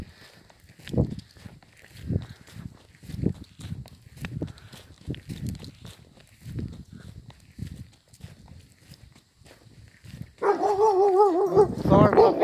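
A dog barks in repeated short bursts about once a second on a nature walk trail, with footsteps nearby. A louder, sustained burst of noise closes the clip.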